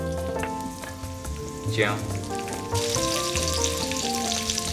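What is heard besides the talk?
stir-frying Sichuan peppercorns, chilies and ginger in oil in a wok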